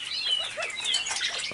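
Several newly bought pigeons flap their wings close by in an enclosure, a steady busy flutter of wingbeats lasting throughout, with faint chirps mixed in.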